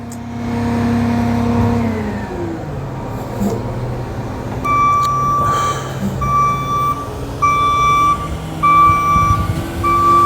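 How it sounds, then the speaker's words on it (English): Dump truck engine idling and revving nearby, then the truck reverses with a loud, evenly repeating backup beeper sounding over the diesel rumble for several seconds. "So there's a dump truck that just pulled up, and it is now leaving."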